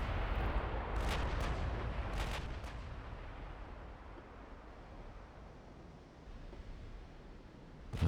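Heavy gunfire from battle cruisers in a naval combat video game: a few loud booming salvos in the opening seconds, then a long rumbling decay with a sustained low roar and no talking.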